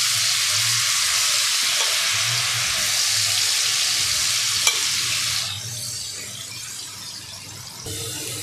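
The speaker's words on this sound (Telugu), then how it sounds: "హై ఫ్లేమ్లో మాత్రమే వేయించుకోవాలి. ఇవి క్రిస్పీగా వస్తాయండి" Bitter gourd pakodi fry in oil on high flame, a loud, steady sizzle and bubbling close by that eases somewhat toward the end, with a brief clink partway through.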